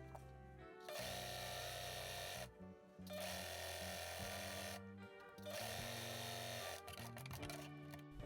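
Sewing machine stitching very thin fabric at a low thread tension for a shirred blouse, running in several steady bursts of rapid mechanical whirring separated by short pauses, close and clear with no talking.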